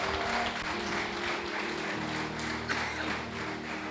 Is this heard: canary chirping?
no